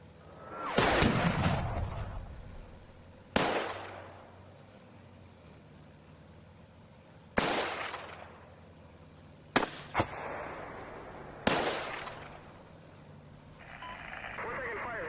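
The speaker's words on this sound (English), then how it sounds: "We're taking fire here." Incoming gunfire in the tank simulator Steel Beasts Pro, several loud, sharp blasts spaced seconds apart, each trailing off into a rumbling decay, with voices talking over a low engine hum.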